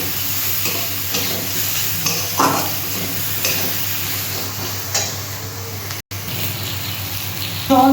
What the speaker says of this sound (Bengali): এবার একটু কষিয়ে নেব।